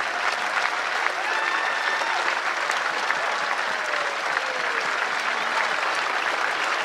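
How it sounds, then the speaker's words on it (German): Large audience applauding in an open-air amphitheater at a historical festival show, a steady dense wash of many hands clapping throughout, fairly close and even in loudness. "Und auch die Damen werden wir mit einem großen Applaus aus dem Amphitheater geleiten."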